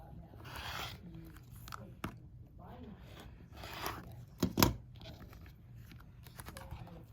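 Scissors snip and crunch through fabric while a quilter trims a Friendship Star quilt block, a series of close, faint cuts and rustles with a louder clip near the middle, under quiet talk.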